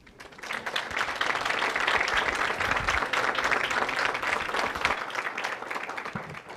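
An audience at a Mexican legislative forum on human trafficking applauds a dignitary, a strong sustained round of clapping that swells and holds steady, filling the hall.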